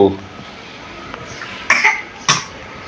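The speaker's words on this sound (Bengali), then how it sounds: "কাশি হচ্ছে তোমার?" A child gives two sharp coughs in quick succession, close and fairly loud, after a brief stretch of voice at the start in an indoor home setting.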